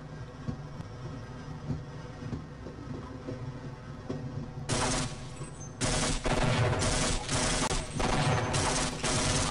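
Rapid video-game gunfire from Half-Life: Opposing Force erupts midway as loud, dense bursts of shots, following a quieter stretch of background game noise.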